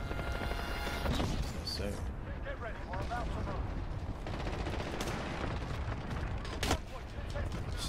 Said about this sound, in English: Cluster strike. Come on, Cluster. Come through for me.